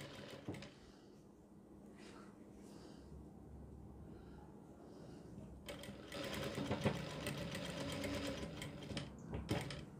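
A sewing machine runs in short bursts and then a longer steady whir while stitching a front neck design on a garment, close and clear.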